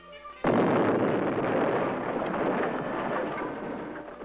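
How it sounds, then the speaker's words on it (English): An explosive charge set off during a 1960s village-defense training exercise bursts with a sudden loud blast, then a long, heavy rumbling roar that carries on for several seconds. "The charge is detonated."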